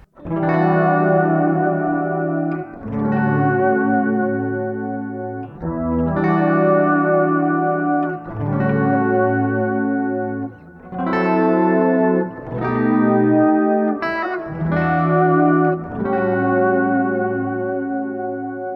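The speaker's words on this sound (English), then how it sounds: "The next patch is called Soft Pad. It's basically kind of like an ethereal kind of sound." Sustained, layered guitar chords through a BOSS SY-200 synthesizer's Soft Pad patch, washed into a soft synth pad, swelling and blending with echo and chorus, played alone in several long phrases.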